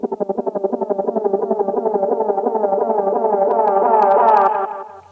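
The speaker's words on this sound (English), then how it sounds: "put a tremolo, which kind of chops it up, makes it really like" A sung vocal line processed with a tremolo effect for a song, the voice chopped into a fast, steady pulsing rhythm that swells slightly louder before fading out, heard alone with no talking.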